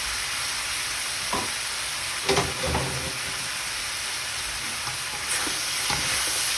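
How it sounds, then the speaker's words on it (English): Vegetables for a shrimp stir fry sauté in a pan, giving a continuous hissing sizzle with a few scraping stirs breaking through, near and steady without speech. "we're gonna let this saute again. Keep sauteing until your veggies are soft"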